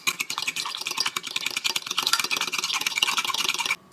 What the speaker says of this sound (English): Just stir that up to combine.